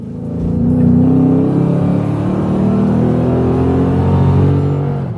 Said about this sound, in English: When you choose a STILLEN Cat Back Exhaust system for your Nissan Titan